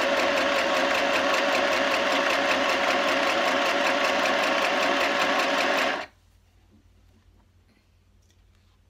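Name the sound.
sewing machine sewing a cushion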